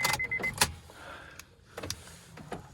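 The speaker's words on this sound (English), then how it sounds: "Lock and unlock works." Car remote locking and unlocking a vehicle, giving a few short mechanical clunks and brief beeps spaced over a couple of seconds, fairly quiet and close.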